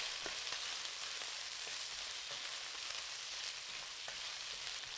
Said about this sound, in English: Stir for 30 seconds.